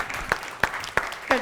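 Studio audience on a Pakistani grocery game show clapping, a moderate burst of applause with a few sharp accented claps standing out at regular intervals.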